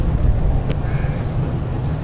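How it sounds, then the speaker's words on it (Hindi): Cold wind gusting outdoors at a village flower exhibition, a close, low rumbling buffet against the microphone that stays loud throughout with no voices. "बहुत ठंडी ठंडी हवा चल रही है जी।"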